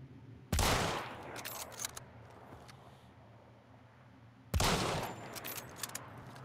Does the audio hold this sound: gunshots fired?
yes